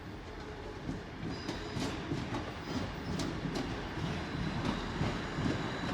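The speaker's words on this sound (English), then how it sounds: "we got a terminating Southwestern Railway service from Andover" A South Western Railway Class 159 diesel unit from Andover arrives at Exeter St Davids, its low rumble and rolling wheel noise steady and close, with faint metallic clicks and squeals above.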